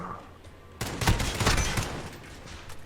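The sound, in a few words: pistol gunfire in a video game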